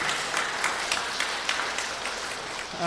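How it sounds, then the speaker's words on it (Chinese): A church congregation at a Sunday service claps together in sustained applause, a dense patter of many hands that stays fairly even before tapering near the end. "拍手谢谢他。"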